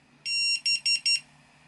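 ISDT FD-100 LiPo battery discharger signalling it has finished, one longer electronic beep followed by three short beeps in quick succession, loud and close.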